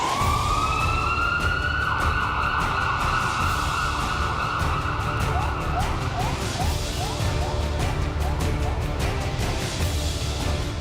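An ambulance siren wails loudly and continuously, its pitch sweeping up at first and then holding steady over a dense roar of traffic.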